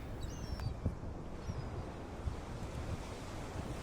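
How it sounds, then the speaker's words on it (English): Ocean waves breaking at Nazaré, a fishing town on the coast, as a steady roaring wash of surf with wind buffeting the microphone and occasional heavier surges, and no voices. "that's how Nazaré gets waves that are unlikely almost anywhere else in the world"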